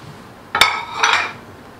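A makhana (lotus seed) laddu mixture is stirred in a pan, with two quick metallic clinks of a spoon against the pan, close and clear, over quiet background.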